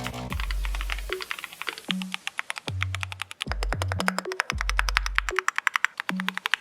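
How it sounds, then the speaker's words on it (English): Keystrokes on a Keychron Q6 HE Hall Effect keyboard, a full-size board with a double gasket design, clatter in quick irregular bursts, close and crisp, alone against a low background hum. "Enjoy a smooth, discreet typing sound that won't interrupt your flow."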